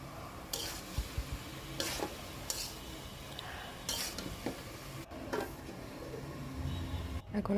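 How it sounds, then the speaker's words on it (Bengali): Steamed cabbage being stirred into spiced oil in a pan, with scraping spatula strokes against the metal at irregular intervals over a soft, continuous sizzle, close by and moderately quiet. "এখন আমি আগে থেকে ভাপিয়ে রাখা বাঁধাকপিগুলো দিয়ে দিয়েছি, ভালো করে মিশিয়ে নিচ্ছি মশলার সাথে"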